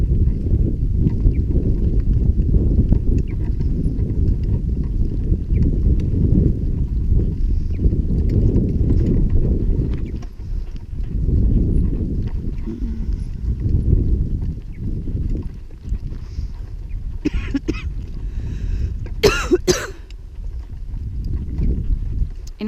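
Steady horse hooves clip-clopping at a walking pace, close by, from a horse being driven, with rumbling wind and rolling noise underneath and a few sharp clicks near the end.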